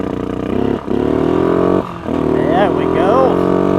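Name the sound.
ATV engine idling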